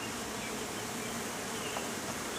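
Honey bees buzz in a dense, continuous drone during a beehive inspection, close and steady with no talking.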